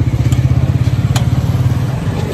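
A motorcycle engine idles close by outside a cemetery with a steady, throbbing low pulse, a rapid rhythmic chug that slows slightly toward the end as the bike comes to rest.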